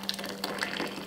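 Hot water just under boiling being poured for black tea: a steady splashing, bubbling pour, close and fairly loud, lasting about a second with no talk.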